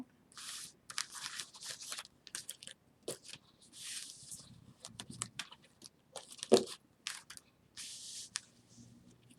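Tarot cards shuffled by hand, making repeated soft papery crackles and flutters in irregular bursts, close and fairly quiet, with no talking.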